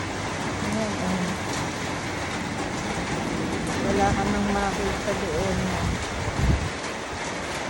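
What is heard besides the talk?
strong typhoon wind and rain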